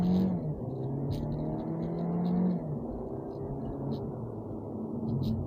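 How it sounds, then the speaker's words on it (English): A 2023 VW Golf Life with a 1.4 engine accelerates from about 60 km/h, a steady mid-level engine hum and road noise rising gently in pitch as the car picks up speed, heard from inside the cabin. "What's the acceleration from the Golf like?"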